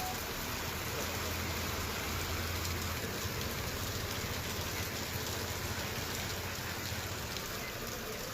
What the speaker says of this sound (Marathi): अवकाळी पावसाने धुमाकूळ घातलाय